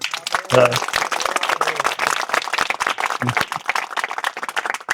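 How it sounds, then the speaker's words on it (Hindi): Audience clapping at a Hindu satsang gathering, a dense patter of many hands filling the room, steady throughout with a voice speaking over it near the start and again briefly midway. "सब ताली बजाएंगे"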